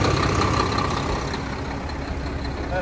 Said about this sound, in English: That is 425 horse Eco Torque D13 on that engine.